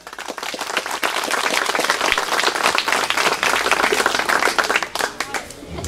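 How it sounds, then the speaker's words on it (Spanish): Audience applause at a street inauguration ceremony in a small community, dense sustained clapping filling the whole stretch, loud and close, tapering slightly near the end. "Vamos a escuchar ese aplauso."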